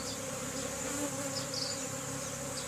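A caught honeybee swarm hums steadily during re-homing into a hive box, a dense and continuous close buzz of many bees, fairly quiet, with no talking.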